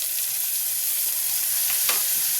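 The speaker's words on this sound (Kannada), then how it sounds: "ಫ್ರೈ ಆಗಿದೆ ಟೊಮೆಟೊ ಹಣ್ಣು" Finely chopped tomatoes fry in a pan for pasta, a steady close hiss of sizzling oil with a faint stir or two, no voices.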